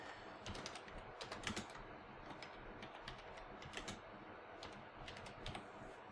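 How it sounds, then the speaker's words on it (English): Quiet, steady typing on a computer keyboard while entering text into an online document, with rapid clusters of light key clicks running continuously and no voices. "So if we started typing on here"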